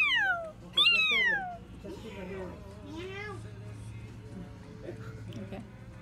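A person mimics a cat's meow with voice alone, two loud rising-and-falling meows up front, then softer drawn-out mews and murmured talk trailing after.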